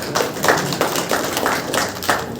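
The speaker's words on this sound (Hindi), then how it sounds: "जोरदार तालियों से स्वागत।" An audience welcomes the general secretary of a cooperative society at a community meeting with steady, moderately loud clapping that pulses in regular bursts for a couple of seconds.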